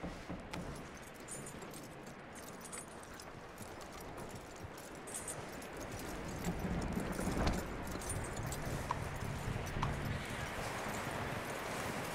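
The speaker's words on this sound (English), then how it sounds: "That looks like a decent horse." Horse hooves clip-clop steadily in Red Dead Redemption 2, with jingling tack and outdoor ambience, growing a little louder midway; no talk.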